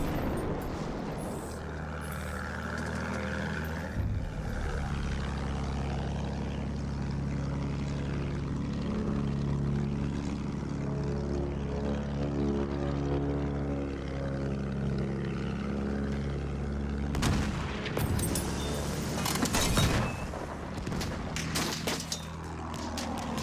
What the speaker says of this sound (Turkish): Tayyare tam yukarıda.